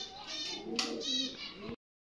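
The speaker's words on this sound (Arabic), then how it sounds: "انا خراويكم الحمام مالت اخوي" Pigeons cooing in a nesting loft, a steady low murmur of coos with a brief flutter partway through, fairly close and with no talk over it.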